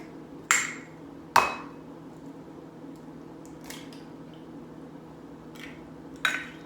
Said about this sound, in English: I'm going to crack my eggs in the bowl because that's where they go